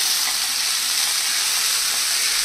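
Sabudana khichdi with black pepper and rock salt being stirred in a pan, heard as a loud, steady, close hiss with no breaks.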